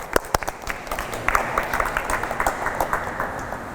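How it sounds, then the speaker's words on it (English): Applause from a seminar audience for a volunteer at a tennis doubles tactics session, a moderate patter of clapping hands that carries on steadily throughout, with a few sharper claps near the start. "a round of applause for Wayne Tan"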